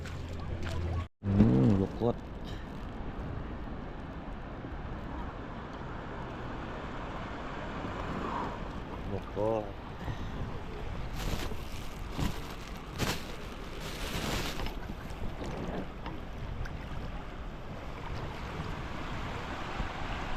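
Choppy sea water at high tide slaps and washes near a boat, a steady rushing surge with wind noise, while voices talk faintly at times.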